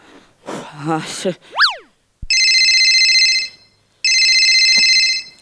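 Electronic mobile phone ringtone plays as two sustained bright multi-tone bursts, each about a second and a half, after a springy boing effect and some speech in a comedy sketch setting.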